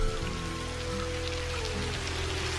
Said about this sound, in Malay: kalau datang bunyi hujan turun